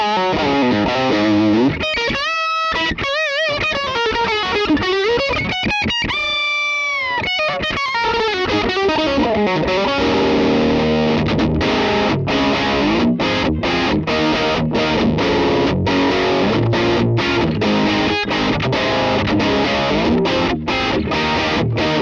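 Electric guitar through a full-gain capture of a 1965 Vox AC30 amp on TONEX, heavily distorted and loud, with sustained bends and riffs giving way to choppy rhythmic chords, no voices.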